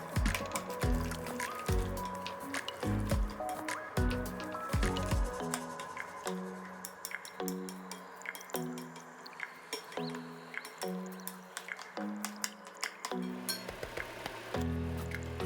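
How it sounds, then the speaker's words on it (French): Flour and water are stirred into a thin batter for a traditional Chinese zucchini galette, making soft, wet squishing and sloppy dripping sounds in an uneven rhythm, close and fairly quiet. "Incorporez les ingrédients en une pâte fine."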